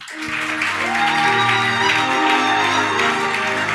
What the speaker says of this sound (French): Maintenant, on peut acclamer pour le Seigneur.